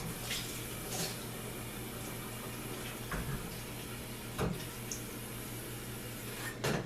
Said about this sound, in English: So I'm going to put really cold water in this again.